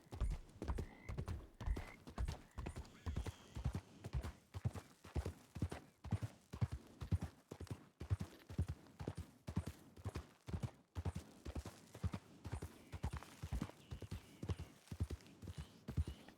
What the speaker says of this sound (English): I heard a horse.